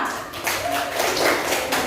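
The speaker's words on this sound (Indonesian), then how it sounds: "Oke, tepuk tangan dulu semua" A classroom of students claps hands together in a short burst, many overlapping claps at close range filling the room for about two seconds.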